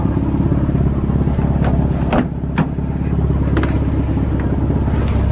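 A lowered car's engine with a single mass flywheel idles roughly in a rapid, uneven clattering rhythm, close and loud, with a few sharp mechanical clicks and knocks over the steady rumble.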